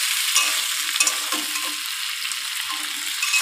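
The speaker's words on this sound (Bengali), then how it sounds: "অল্প একটু আদা আর একটু জিরে দেবো, জিরে বাটা। ভালো করে ভেজে নিই।" Ginger and cumin paste frying in a pan, a loud close hiss of oil with light scraping stirs throughout.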